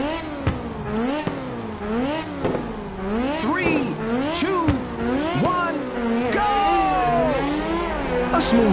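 Race car engines in the PSP game Ridge Racer whine and rev up and down in repeated surges as the cars launch from the start, loud and close, with a voice speaking over them.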